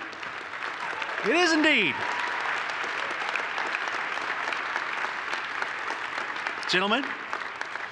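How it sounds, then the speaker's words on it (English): An audience at a Colorado Business Hall of Fame dinner applauds the Abraham Lincoln High School JROTC with steady, sustained clapping throughout. Someone speaks over it through a microphone at the start and again near the end. "Big round of applause"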